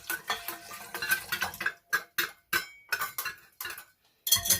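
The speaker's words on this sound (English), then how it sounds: "I'm going to transfer my hand sanitizer into my big bowl" Hand sanitizer being poured into a big bowl and mixed, heard as a busy run of clinking, scraping and stirring knocks with short pauses between bursts, close and fairly loud.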